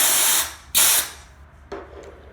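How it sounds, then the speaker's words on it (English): An aerosol can sprays onto a horn strobe slave unit of a fire alarm system in short, loud hissing bursts: a long spray, a second strong burst right after, then a brief final puff. "once again, spraying the slave unit."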